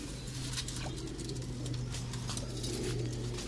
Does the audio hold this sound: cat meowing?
no